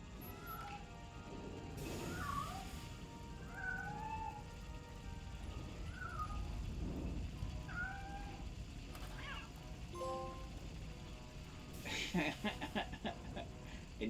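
A cat meows repeatedly in a video game set where fire blocks the way. The calls are short and rising and come at intervals over a steady backdrop of game noise, with a crash and rattling near the end.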